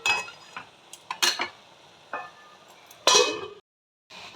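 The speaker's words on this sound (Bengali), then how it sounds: "এইবার একটু ঢেকে দেবো।" A metal lid goes onto a pot of cooking spinach with green chilies, making a few sharp clinks and scrapes. Quiet pauses fall between them, and a brief silence follows.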